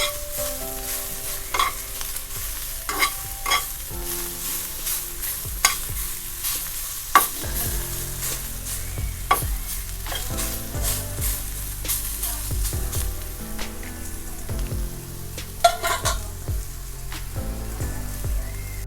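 Pointed gourd (potol) stir-fried in a pan at home, a steady close sizzle with repeated scraping and clinking stirs of a spatula throughout, no voices.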